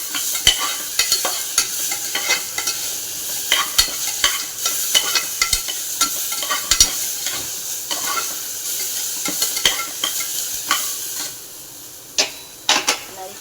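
Tomato and green chili hit a hot pan for millet upma and sizzle steadily while a spoon repeatedly scrapes and stirs against the metal in sharp, irregular clicks.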